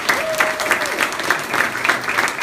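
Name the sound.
audience applause for a professor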